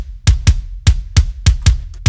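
A processed metal kick drum sample, high-passed, low-passed at 10k and fed through a clipper, thumps in a rapid, slightly uneven double-kick pattern of about eight tight, punchy hits, loud and alone.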